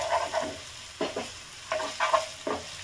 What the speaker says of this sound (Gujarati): હવે હું અહીંયા આદુ અને લસણ આમાં એડ કરી દઈશ અને આને બી આવી રીતે કૂક કરી દઈશ